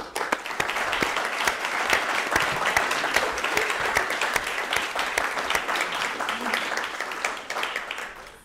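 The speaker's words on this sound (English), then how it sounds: "give him a round of applause" A debate audience claps steadily for several seconds, a dense, even burst of applause that holds its level and tails off at the very end.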